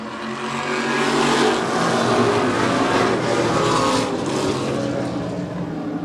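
A Ford Pinto race car roars on the track, its engine loud and sustained as it revs hard and passes close by, with no voices over the din.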